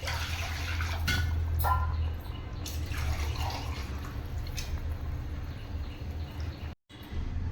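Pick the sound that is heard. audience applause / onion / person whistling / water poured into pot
water poured into pot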